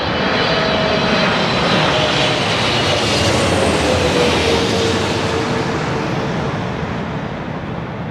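A large aircraft roars steadily overhead on approach to landing, a loud, continuous broadband engine rumble with a slowly shifting whine that fades slightly toward the end; no voices.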